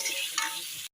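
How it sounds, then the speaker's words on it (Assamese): Pumpkin and potato pieces fry in a hot pan for an Assamese pumpkin and fish dish, giving a steady close sizzle with a scrape of stirring partway, then cutting off abruptly to silence near the end. "এই ৰঙালাও আৰু আলুখিনি দি দিছোঁ। অলপমান ভালকৈ ভাজবা লাগিব।"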